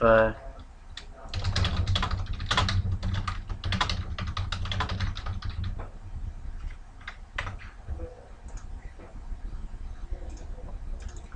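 Typing on a computer keyboard while working with a words filter program, a steady run of close key clicks for most of the stretch, thinning into sparse taps near the end, with faint background hum.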